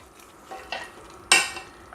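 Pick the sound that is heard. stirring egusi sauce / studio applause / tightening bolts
stirring egusi sauce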